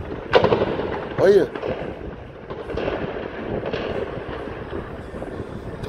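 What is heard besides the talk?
gunfire during a bank robbery shootout in a town centre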